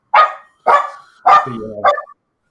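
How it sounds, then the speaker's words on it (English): A dog barks at someone at the door, giving four loud, close barks spaced about half a second apart, the last one trailing into a short whine. "dog barking somebody at the door."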